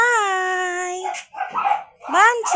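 Several dogs in rural Zamboanga, Philippines give a drawn-out whining howl, then a run of shorter yips and barks, loud and close with no talking.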